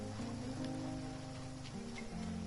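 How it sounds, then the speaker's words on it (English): Steady rain falls in the video game Genshin Impact, a continuous hiss of drops on surfaces under soft, sustained game music, with no voices. "It's raining again?"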